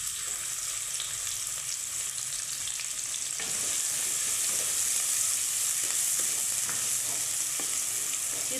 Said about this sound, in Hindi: इसको तकरीबन हम 3 मिनट तक भूनेंगे प्याज को